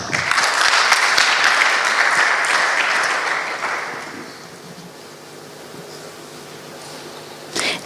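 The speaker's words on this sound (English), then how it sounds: "Can we have a round of applause?" An audience applauds at a technology summit panel introduction, a dense burst of clapping that fades after about four seconds into quiet room tone with a few scattered claps.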